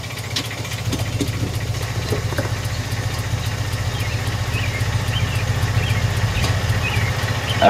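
A 2002 Acura RSX Type-S with its idle air control valve deleted idles low and steady at close range, a constant rumbling drone with faint clicks over it and no voices.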